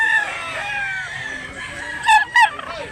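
Rooster crowing at a Cebu cockerel market, two loud, brief bursts of crowing standing out near the end over a steady bed of background noise.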